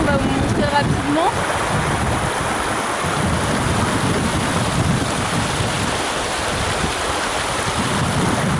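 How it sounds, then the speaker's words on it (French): Small waterfalls tumble along streams in the Scottish Highlands, giving a steady broadband rush of running water mixed with wind buffeting the microphone, with no voices. "C'est super joli au fur et à mesure qu'on monte, en fait il y a chaque fois des petites cascades."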